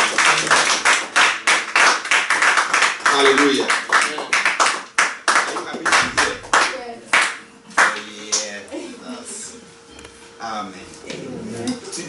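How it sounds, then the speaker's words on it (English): A church congregation claps loudly in a brisk, regular rhythm during a Sunday service, with a preacher's voice and calls over the clapping, which loosens and fades toward the end. "We are clapping to Jesus."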